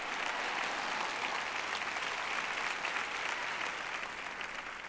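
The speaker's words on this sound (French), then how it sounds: "J'ai une dame qui applaudit par ici." Steady, dense applause from an audience at a Christian teaching event, many hands clapping at once and holding an even level throughout, with no talking over it.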